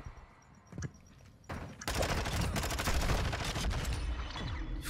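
Gunshots ring out in a Call of Duty Modern Warfare 2 ranked Search and Destroy round: a few isolated cracks, then a dense, sustained volley of fire that carries on for several seconds, moderately loud with no voices.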